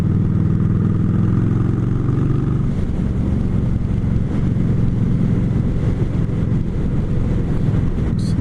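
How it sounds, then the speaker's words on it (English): A motorcycle engine rumbles loudly and continuously while riding, its exhaust note steady and throaty, mixed with some wind buffeting. "But I just like the way this exhaust sounds."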